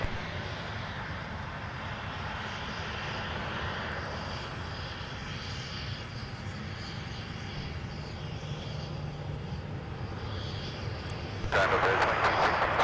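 Delta airliner taking off from runway 17 at Minneapolis–Saint Paul airport, a steady distant engine roar sustained throughout, with radio chatter and talk over it and a brighter burst of noise near the end.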